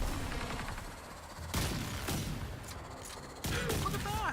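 Twin Rogga shotguns fire in Warframe, three or four heavy blasts spaced about a second apart, loud and close amid busy combat noise.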